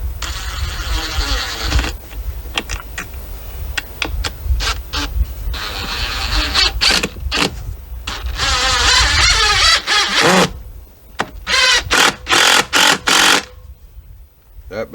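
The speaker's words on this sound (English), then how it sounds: "Now I just want to run one in this way, and I'm using Spax construction screws" A Spax construction screw is driven into a window frame by a power driver, whose motor whirs in bursts of varying length, with the last bursts short and stuttering, close and loud.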